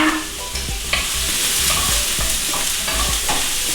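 Onion dropped into a hot pan sizzles loudly and continuously, with a spoon knocking and scraping as it is stirred, and no voices.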